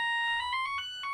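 A phone rings with an incoming call, a brief electronic ringtone of clear, pure stepped tones in a quick melodic pattern lasting just over a second, with no talk.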